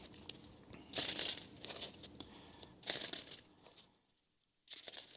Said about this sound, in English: So let's shuffle this guy up a little bit.